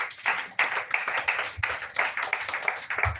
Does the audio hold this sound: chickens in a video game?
no